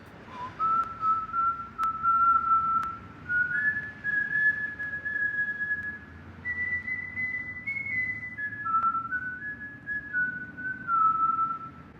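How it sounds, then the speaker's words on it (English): A single person whistles the short folk melody The Farmer in the Dell, the tune tied to Omar from The Wire, carrying a clear wandering line for about twelve seconds over soft low background noise, with no speech. "Omar's character is widely associated with his whistling of The Farmer in the Dell, a short folk melody"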